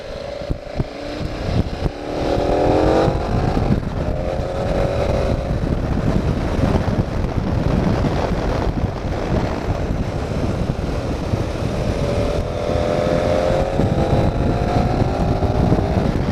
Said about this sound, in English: That motor is a damn sight quicker than my GS motor.